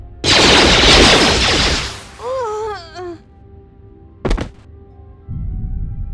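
Soldiers fire a loud, dense gunfire volley in Star Wars Knights of the Old Republic II: The Sith Lords, a sustained roar of nearly two seconds followed by a rising whine, then a single sharp crack and a low rumble.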